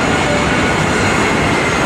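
Loud, steady aircraft engine roar at an open plane door in the game Love and Deepspace, a dense unbroken blast with no voices audible over it.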